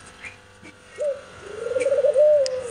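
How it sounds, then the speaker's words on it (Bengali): Pigeons coo nearby at a Bangladeshi film shooting spot, one soft call followed by a longer, throbbing rolling coo, with faint chirps in the background. "এ দেখেন কবুতরগুলো কত সুন্দর।"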